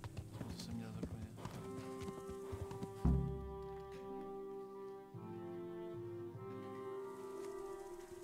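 Horse hooves clopping in the medieval role-playing game Kingdom Come: Deliverance, a steady rhythmic trot under game music with a heavy thump midway, while a voice talks over parts of it.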